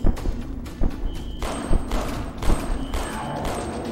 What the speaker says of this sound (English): An Action Express hand cannon packs quite a punch